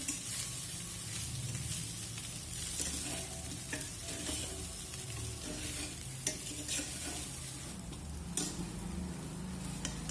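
Aloo poha is gently tossed with a spatula in a hot pan, producing a continuous soft sizzle with repeated scraping strokes and occasional louder clacks of the spatula against the metal.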